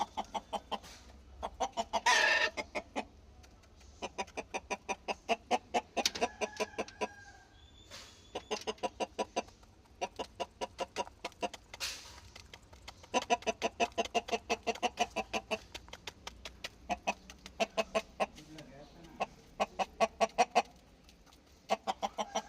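Chickens cluck in rapid bursts over a long stretch, with occasional louder squawks, fairly quiet and close against a faint low hum; the rooster is frightened and not eating.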